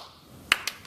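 Two quick, crisp hand claps ring out close by, a short pause between them, after a faint, quiet stretch.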